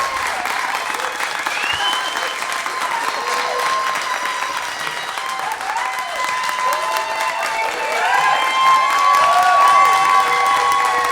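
Applause and cheering from a crowd at a live pop-up music performance, with dense steady clapping and scattered whoops that swell louder toward the end.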